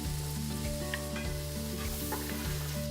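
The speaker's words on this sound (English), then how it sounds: "Add your onion." Onion hitting a hot frying pan with toasted spices and oil for smoky chicken tacos: a steady, dense sizzle and crackle with faint stirring scrapes, close and continuous, no talk.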